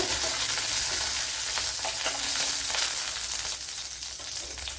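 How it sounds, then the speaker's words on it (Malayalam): Mustard seeds and dried red chili frying in a tablespoon of coconut oil make a loud, close, continuous sizzle with dense crackling pops and occasional stirring, no voices over it. "ഇവിടെ 1 ടേബിൾ സ്പൂൺ വെളിച്ചെണ്ണ ഒഴിച്ചു കൊടുത്തിട്ടുണ്ട്. അതിലേക്ക് കടുക് ഇട്ട് കൊടുത്തിട്ടുണ്ട്. വറ്റൽമുളക് ഇട്ട്"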